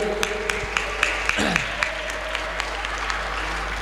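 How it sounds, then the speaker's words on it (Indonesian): Applause from a journalism-training audience at a pesantren, a steady patter of many hands at moderate level, with a few sharper claps standing out and a voice briefly sounding partway through. "tepuk tangan dulu"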